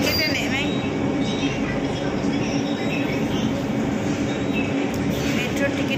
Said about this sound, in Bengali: মেট্রোর টিকিট কেটে নেমেই দেখলাম যে মেট্রো ঢুকছে